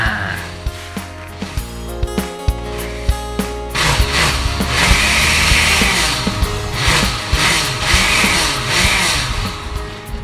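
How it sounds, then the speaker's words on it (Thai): An electric blender whirs as it purees batter ingredients for Thai rolled khanom khrok dessert, a steady motorized grinding that starts partway through and runs loud and close to the end after quieter clattering. "ลงในโถปั่นแล้วปั่นให้ละเอียด"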